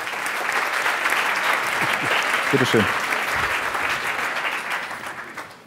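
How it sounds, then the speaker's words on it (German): A lecture audience gives sustained applause for an expert speaker at a media conference, loud and continuous, then tapering off toward the end, with a brief spoken phrase heard over the clapping. "Einen großen Applaus nochmal bitte für unseren Experten"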